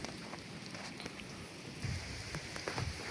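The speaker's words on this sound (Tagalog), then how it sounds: "Nabutan tayo ng ulan." Light rain falls at a construction site with railings, a faint, steady patter with scattered drops, soft and diffuse.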